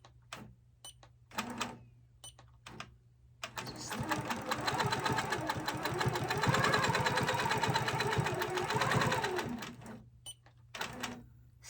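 A sewing machine with a ruler foot quilting over hand embroidery at 8 stitches per inch: short stop-start bursts, then a sustained run of rapid, close stitching that fades back into brief bursts.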